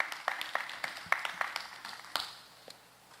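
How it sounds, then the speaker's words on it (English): Spelling bee audience at a secondary school event applauding the contestants, a brief burst of scattered claps that starts fairly thin and fades out within a couple of seconds. "Let's give a round of applause to our contestants this morning."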